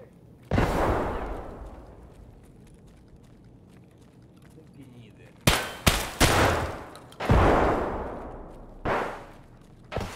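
Grenade launcher fire in a video game: a single heavy blast, then a cluster of sharp, booming shots with long decaying tails, all loud and close.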